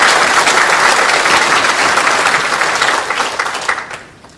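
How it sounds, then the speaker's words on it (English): Loud audience applause at a chamber of commerce annual gala, dense clapping holding steady before tapering off and fading out near the end. "Let's give them a round of applause."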